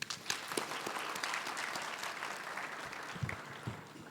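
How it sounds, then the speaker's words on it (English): An audience at a graduation ceremony applauding the choir Voices Plus, dense sustained clapping from many hands throughout, without talk. "Can we give our choir Voices Plus a huge applause"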